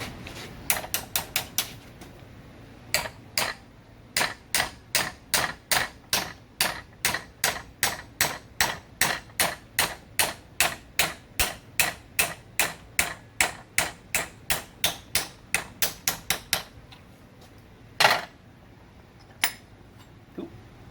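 Steady hammer blows strike metal being bent for a Datsun 240Z lower control arm, about thirty sharp, evenly spaced ringing hits in a long run, then a pause and a couple of final strikes.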